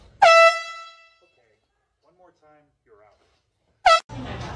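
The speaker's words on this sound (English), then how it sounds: "Oh, it was an air horn." A loud air horn blares twice, a long harmonic blast, then after a quiet stretch with faint murmuring a second short blast followed by noise.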